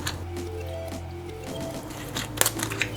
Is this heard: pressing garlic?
yes